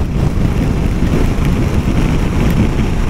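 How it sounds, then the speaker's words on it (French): Steady, loud wind roaring and buffeting against the microphone on a beach, a constant rushing noise with no speech. "Et là le vent il se lève et tout"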